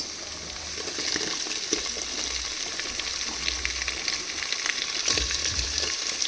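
Chopped onions frying in a hot pan, a steady loud crackling sizzle with occasional stirring scrapes, continuous and close.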